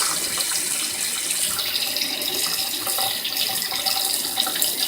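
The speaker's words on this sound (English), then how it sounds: "Turn on the hot water," Hot water pours steadily from a sink tap while paint brushes are being cleaned, a continuous close hiss and splash with no talking.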